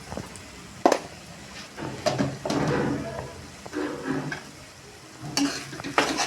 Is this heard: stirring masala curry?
yes